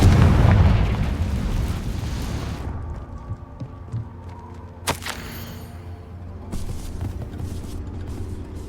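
In Hogwarts Legacy, a fiery Confringo spell bursts with a loud, close boom that rumbles and fades over a few seconds, followed by a sharp crack and scattered smaller thuds as the game's soundscape settles.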